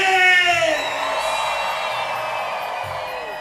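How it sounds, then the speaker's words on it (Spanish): A concert crowd at a show cheers, whoops and shouts loudly and continuously, a dense wash of voices that starts strong and stays steady throughout. "Manos arriba, gritos y todo lo que quieran hacer."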